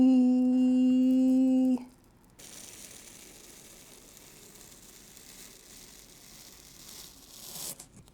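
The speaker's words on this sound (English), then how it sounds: "we have this plate here that you're just supposed to peel" Protective film slowly peeled off a magnetic panel plate gives a steady, soft crackling tear lasting several seconds, after a short loud steady tone at the start.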